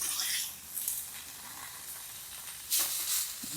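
Pork chops sizzle on a grill outdoors in the Quartzsite desert, a steady hissing crackle with brief louder bursts of steam, no voices over it.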